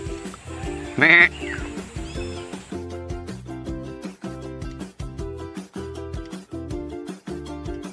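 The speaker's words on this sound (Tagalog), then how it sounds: "Oh, may bibi. Cute ng bibi. Pato ba to?" A duck at a rural provincial home lets out one short, nasal quack near the start, heard over rhythmic background music that continues afterward.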